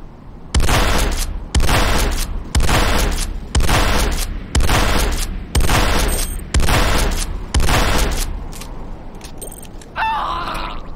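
Repeated C4 detonations thunder through a structure in the video game Command & Conquer: Renegade, eight heavy booming blasts in a regular, evenly spaced rhythm, each loud and close, followed by a quieter tail with a faint electronic announcement.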